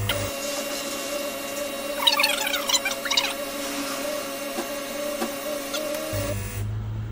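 An ultrasonic fuel injector cleaning and testing machine runs a high-speed test at 3,000 RPM, giving a steady mechanical hum with rapid ticking and brief hissing spray bursts midway, then a low drone as it stops.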